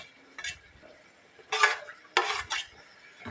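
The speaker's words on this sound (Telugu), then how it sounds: "ఇప్పుడు కరివేపాకును కూడా మంచిగా కలుపుకుందాం." A spoon stirs curry leaves into a mango mutton curry in a pot, with several separate scraping, clinking strokes against the metal, close and quiet, the last two strokes coming in quick succession.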